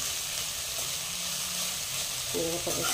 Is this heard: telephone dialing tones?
no